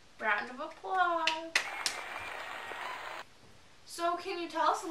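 An interview audience breaks into a short, dense burst of applause lasting under two seconds, with speech just before and after it.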